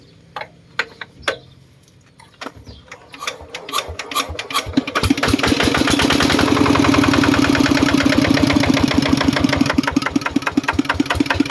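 A used 155 vehicle engine, sold with a warranty, cranks and starts after a few clicks, then settles into a loud, steady, close ticking idle.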